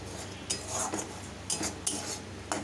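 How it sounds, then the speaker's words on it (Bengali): A spatula scrapes and clinks in a pan as spice paste is stirred with a little water for a Bengali stingray curry, with repeated close metallic strokes and faint sizzling, no voices. "অল্প একটু জল দিয়ে কষাতে কষাতে অল্প অল্প একটু জল দিয়ে নাড়াবো"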